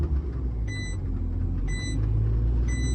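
A learner driver's car engine rumbles steadily as the gas is pressed, a low close drone inside the cabin with three short, regular high beeps sounding over it.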